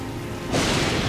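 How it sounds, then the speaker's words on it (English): Heavy rain pummels the cobbled city streets in Calvino Noir, surging after a quieter low rumble into a loud, dense, broadband wash of downpour with no voices. "Biblical rain pummels the city"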